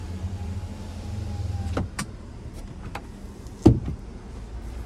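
The power sliding sunroof of a 2024 GMC Sierra 1500 AT4 closes with a low motor hum that stops, followed by a few sharp clicks and a firmer thunk as it seats, inside a quiet cab.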